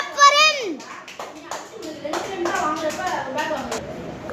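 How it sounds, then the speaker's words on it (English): Children clapping for a first-prize karate championship winner, a short burst of scattered claps mixed with children's chatter and voices talking over them. "Clap for him."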